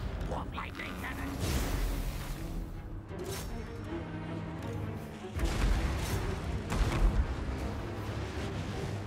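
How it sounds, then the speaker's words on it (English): Warp lightning cannon fire in the Total War: Warhammer II video game comes as rumbling booms and crackling blasts, the largest swell arriving midway, beneath a voice talking throughout. "Warp lightning cannon."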